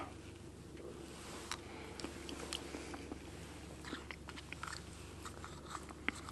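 Someone eating a hot MRE field ration from its pouch: quiet, close chewing and small biting clicks scattered through a faint steady background hum, with soft irregular crunches and no talk.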